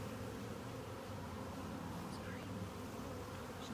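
Honey bees buzz during a beehive inspection, a dense continuous hum that stays steady and close throughout, with no voices.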